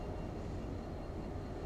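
DE6 diesel locomotive in the Derail Valley game coasting at high speed with the train brake lightly applied, giving a steady, low rumbling rolling noise throughout, fairly quiet with no talk.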